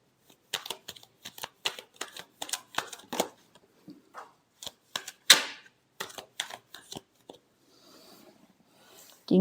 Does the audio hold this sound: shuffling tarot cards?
yes